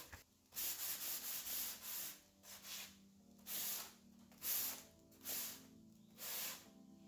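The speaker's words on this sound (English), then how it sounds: "I just distressed them using 150 grit sandpaper and a sanding sponge" 150-grit sandpaper rubs back and forth across a wooden dresser in a steady rhythm of raspy strokes, each followed by a brief pause, close and fairly quiet.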